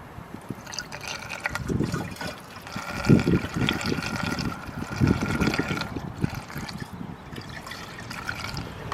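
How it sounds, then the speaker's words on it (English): Windshield washer fluid glugs through a large funnel into a car's reservoir, an uneven gurgling pour that surges and bubbles at close range without pause. "I want to do is get my washer fluid to the right level"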